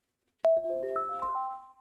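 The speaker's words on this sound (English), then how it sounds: "And we have a phone call coming in." A phone ringtone sounds for an incoming call during a live stream, opening with a bright chime and continuing as a layered melodic tone of sustained notes for over a second, clear and alone.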